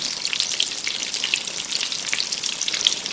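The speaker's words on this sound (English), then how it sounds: "We're just going to cook until golden brown on one side, flip them over, cook until the other side's golden brown as well" Breaded eggplant slices fry in a pan for eggplant parmesan, giving a dense, even crackling sizzle with bright popping spatters throughout, close and continuous.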